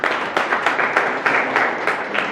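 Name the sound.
loud applause for a speaker at a business meeting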